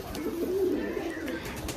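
Soft, low cooing from a Giribaz pigeon in a loft, a continuous rolling murmur, fairly close, with faint background noise.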